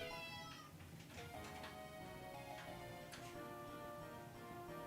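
A pet cat meows faintly at a distance, letting out a few drawn-out, wavering cries over a low steady background hum.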